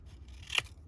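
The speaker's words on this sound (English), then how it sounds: "So you snip it" One quick, crisp snip of scissors cutting paper for a junk journal paperclip, close and isolated against a quiet background.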